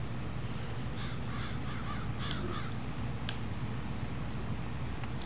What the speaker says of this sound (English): Seems to be a lot of crows in this area.